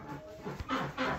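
A dog on a farm with chickens and ducks pants in quick breathy bursts, close by, with a few soft whimpery catches between breaths.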